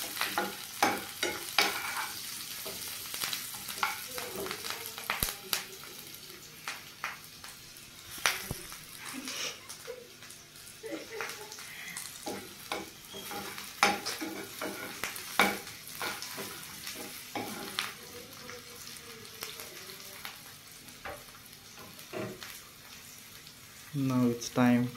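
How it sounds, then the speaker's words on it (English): Onion fries in a pan and is stirred until brown while cooking dal bhat. There is a low, steady sizzle throughout, with frequent scraping clicks from the spoon against the pan, fairly soft and close. "You should stir the onion until it turns brown."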